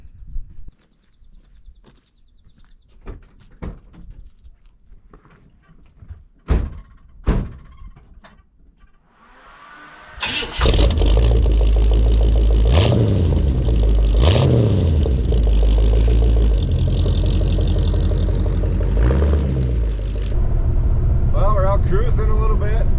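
1952 Oldsmobile: a few clunks and taps as someone gets in, then the engine fires at about ten seconds into a loud, steady rumbling idle and drive with rising and falling revs, close by.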